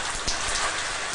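A steady, loud hiss of rain pours down during a storm, dense and continuous without pause or voices.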